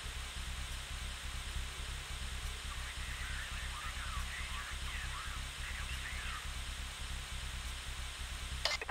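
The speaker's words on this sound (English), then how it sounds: "That's the alarm, guys. It's on now." An alarm blares in the heist video game PAYDAY 2 during the Big Oil job: faint wavering, warbling tones rise and fall through the middle of the clip over a steady, loud hiss and low rumble, with no voices.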